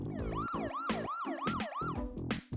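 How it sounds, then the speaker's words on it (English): An ambulance siren wails loudly and close, its rising and falling tone repeating about every half second over a low vehicle rumble. "Ambulance."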